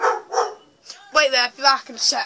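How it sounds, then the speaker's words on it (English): A dog barks a couple of times at the start, then a person speaks close by over the tail of the barking. "Sorry about the barking in the background."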